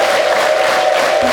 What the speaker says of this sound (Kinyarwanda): Nimuhoraho amashyi impundu z'ibyishimo.